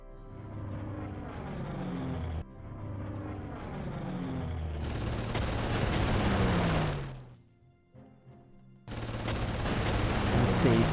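Gunfire and engine noise in a Panzer Corps Sedan battle as a fighter plane attacks a bomber, a dense, loud run of shots and rumbling that drops briefly and then surges back.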